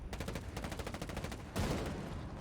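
Rapid gunfire rattles in a multiplayer match of Ghost Recon Wildlands on PS4, a fast run of repeated shots followed by a sharp, louder blast near the end, heard fairly quietly with no talk.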